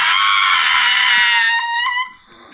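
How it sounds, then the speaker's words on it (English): A little pug's drawn-out high yelling wail carries on loud and close, then breaks into a few wavering pulses before trailing off. "that was the dog just yelling for no reason"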